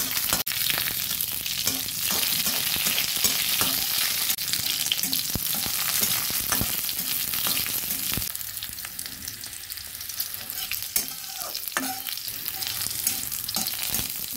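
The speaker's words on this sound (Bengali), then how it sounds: "কালো জিরেটা কিছুটা ভাজা হয়েছে, দিয়ে দিলাম রসুন, আর সঙ্গে একটা এবার ভালোভাবে নেড়ে দিচ্ছি।" Black cumin seeds and garlic fry in a pan for drumstick-leaf bharta, a steady close sizzle running throughout while a spatula stirs and scrapes with scattered light clicks.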